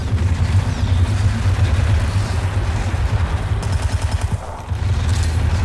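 Gunfire in the stealth action game Hitman Absolution: loud, dense volleys of rapid shots that continue throughout with only a brief dip, plus a low rumbling undertone.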